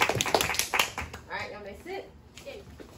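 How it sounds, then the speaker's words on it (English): A round of applause for award recipients at a school awards ceremony: a burst of many hands clapping that quickly thins out as a voice starts talking over it. "All right, let's give them one more round of applause."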